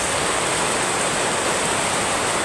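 Heavy rain falling in Bicol, Philippines pours down as a loud, dense, unbroken hiss that fills the whole moment without any voices.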